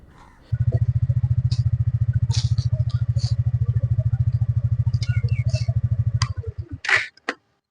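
Motorcycle engine catches and runs after a push start in third gear by turning the rear wheel, a steady close thumping idle for several seconds before it stops, with a few clanks and clicks around it.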